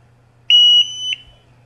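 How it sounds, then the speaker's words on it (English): Three sharp electronic beeps from an Altair 5X gas detector starting up, a long high tone followed by two shorter ones, loud and close with no talking. "It'll alarm, and then it'll start going through its startup process."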